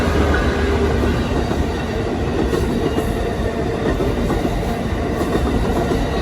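A Metrolink commuter train passes close by at San Clemente near the pier, a loud continuous rumble and rattle of wheels and cars that holds steady throughout with no voices.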